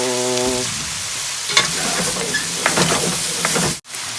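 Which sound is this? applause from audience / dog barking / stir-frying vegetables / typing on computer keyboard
stir-frying vegetables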